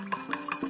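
A spoon stirs milk and condensed milk in a glass for a latte, ringing out about four quick, bright clinks against the glass within a moment.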